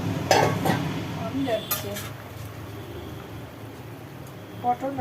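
A pot of Bengali curry gravy simmering as it is stirred, with clinks of a spoon against the pot and soft bubbling, a few distinct scrapes early on, then quieter cooking sounds under low talk.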